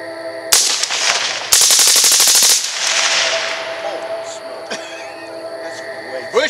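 A Bushmaster ACR rifle fires outdoors, starting with a single loud shot and then a fast, close automatic burst that echoes and fades into ringing quiet.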